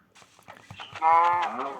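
A cow in the Minecraft video game moos once, a loud drawn-out low call that swells in the second half after some quieter game clicks and rustles.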